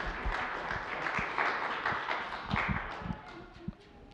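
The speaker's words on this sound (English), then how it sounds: "Let's give Joseph a round of applause." An audience gives a round of applause for a guest at a Christmas interview event, a steady patter of clapping from a modest crowd lasting several seconds, with a few sharper claps standing out.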